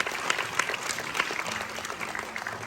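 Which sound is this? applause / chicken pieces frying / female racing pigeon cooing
applause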